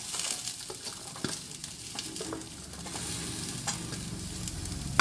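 Tender drumsticks, curry leaves, tomato, garlic and onion are sautéed in oil for a chutney, giving a continuous close sizzle with occasional scraping stirs in the pan.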